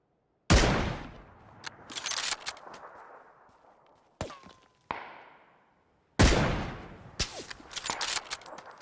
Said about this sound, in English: Why is he even shooting me?